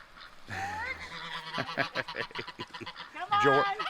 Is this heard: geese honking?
yes